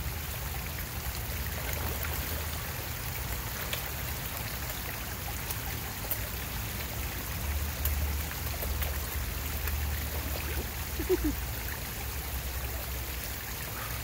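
Water in a stream flows steadily, a constant soft wash and trickle that is faint and close, with no voices.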